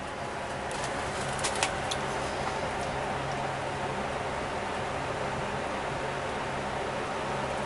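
A small bird coos softly and steadily against a constant hiss of background noise, with faint higher chirps near the start and no talking.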